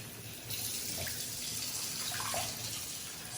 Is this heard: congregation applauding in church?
no